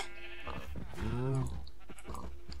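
Cows mooing in the Minecraft video game, a drawn-out low moo with a tonal, harmonic sweep rising near the middle, with quieter game sounds around it.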